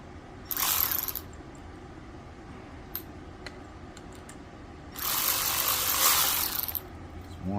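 Clutch spring screws being run down on a Yamaha Raptor 660 ATV, with a short ratcheting tool burst, a few faint ticks, then a longer rasping ratchet run, close and alone.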